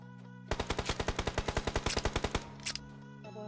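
Automatic gunfire in a video game rattles off as a rapid, even burst of about twenty shots, then stops. A low musical or ambient hum runs underneath and a few faint tones follow.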